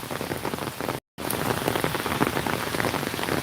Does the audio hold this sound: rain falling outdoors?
yes